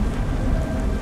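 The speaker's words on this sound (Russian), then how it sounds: "О, чертов дождь." In the video game Beyond: Two Souls, heavy rain pours down as a dense, constant roar with a low rumble underneath, like a storm close around the listener.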